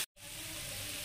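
Masala with coriander powder and salt sizzles steadily in a pan while being stirred, a continuous close frying hiss after a brief silent gap at the start.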